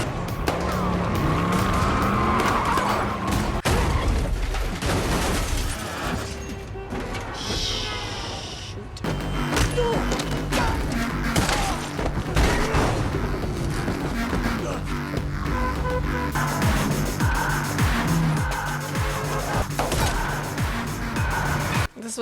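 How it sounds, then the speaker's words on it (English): Car drifting with skidding tires in an action movie finale, heard as loud, dense engine roar and tire squeal mixed with music and crashes throughout, with a brief screeching burst midway. "Look at that drift."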